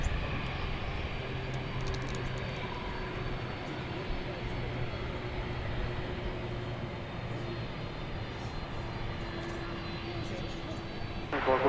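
McDonnell Douglas MD-11 engines rumble faintly at an airport, a low, even drone with a steady hum running under quiet talk.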